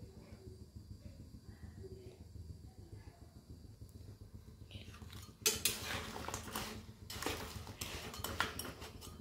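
Jaggery and water being stirred in a pot: soft, sparse scraping at first, then louder, brisk metallic scrapes and clinks of a spoon against the pot in bursts, close by.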